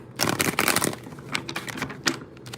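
Quick riffling bursts of tarot cards being shuffled close by, a dense flutter followed by a few lighter taps and snaps.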